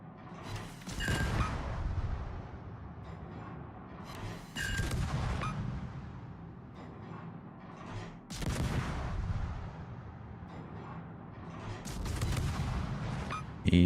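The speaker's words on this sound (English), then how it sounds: "He's shooting at me." Heavy naval guns firing in World of Warships, several deep booming salvos roughly every four seconds, each with a sharp crack and a long rumbling tail, loud and close with no talk.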